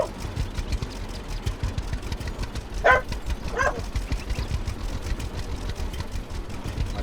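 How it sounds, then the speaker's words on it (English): Dogs at play let out two short, sharp barks a moment apart, moderately close, over a steady idling engine hum. "My dogs are playing."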